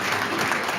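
An audience at a California higher education conference panel claps in a brief, steady burst of applause, dense and continuous.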